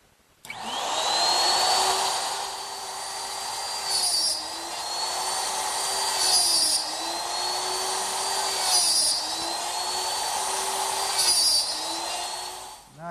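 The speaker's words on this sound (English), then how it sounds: "Now I'm using my dovetail jig again, except this time I've set it up for 1/2 inch blind dovetails." A handheld router with a dovetail jig cuts half-inch blind dovetails in pine, a loud steady high whine that dips and swells with each pass along the board, running continuously without talk.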